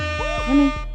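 A blaring air horn sound effect played over a live stream, one short loud synthetic blast with a falling and rising pitch sweep, lasting under a second.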